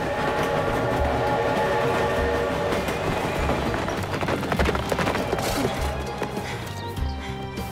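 A cartoon train rolls along, a loud continuous rumble with rhythmic clattering and a few sharper clacks near the end, with no voices.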